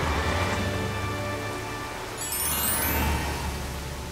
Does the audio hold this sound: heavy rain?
yes